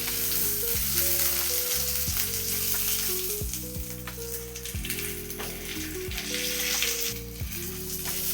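Andhra-style kara chutney tempering sizzles and crackles in a pan while being lightly stirred, a steady close frying hiss under a melodic background music line.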